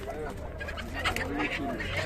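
Chickens cluck and murmur close by at an open-air poultry market in Kırıkkale, a busy layered flock sound with background chatter of people.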